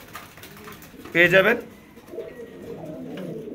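A top-class pigeon at a farm coos in one loud, short throaty burst, close by, with someone talking before and after it.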